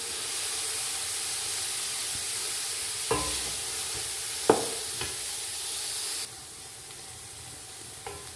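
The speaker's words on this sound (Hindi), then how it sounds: "तकरीबन 2 चम्मच के बराबर देसी घी और डालूंगी। अच्छा से भूनूंगी।" Grated carrot halwa fries in desi ghee with a steady, close hiss and sizzle, while a few spoon scrapes and stirring knocks sound against the pan, and the sizzling softens a little toward the end.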